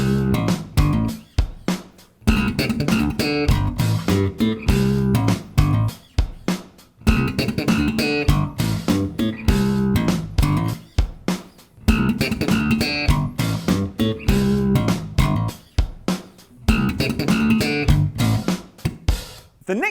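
Slapped bass guitar triplets are played along with a full backing track of drums and music. Punchy, dense rhythmic phrases come in repeating bars with brief gaps between them, loud and close.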